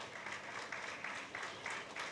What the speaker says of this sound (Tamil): அவருக்கு ஒரு நல்ல கரகோஷம் கொடுக்கணும்